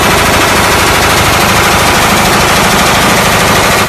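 A toy gun fires in a rapid, continuous loud rattle of buzzy bursts, very close and harsh, stopping abruptly at the end.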